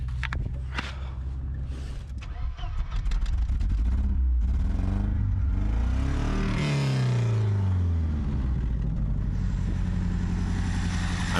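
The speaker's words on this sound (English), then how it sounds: "I'm giving the carburetor a little gas by hand." An abandoned old Rolls-Royce engine, first started after long disuse, idles roughly up close, then revs up in several surging bursts as the carburetor is worked by hand, and settles into a loud, steady running drone.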